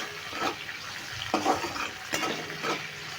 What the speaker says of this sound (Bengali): 1 মিনিট মতন আমি ক্যাপসিকামটা দিয়ে নেড়ে একটু ভেজে নিচ্ছি।